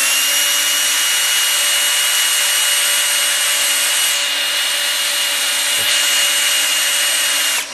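A drill spins a drywall screw head against wood in an attempt to countersink it, giving a loud, steady high whine and grinding friction that holds unbroken for several seconds before winding down at the end.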